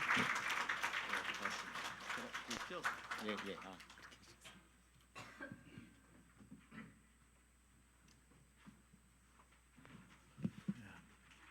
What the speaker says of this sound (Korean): 큰 박수로 우리 환영했으면 좋겠습니다